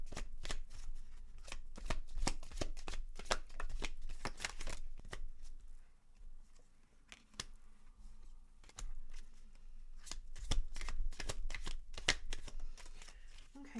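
Tarot cards being shuffled by hand, quick papery riffles and flicks coming in close bursts with brief pauses between, soft and near.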